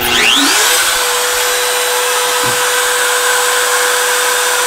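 A Makita router motor spins up from rest to a loud, steady high whine and runs freely without cutting, close to the microphone, with no one speaking.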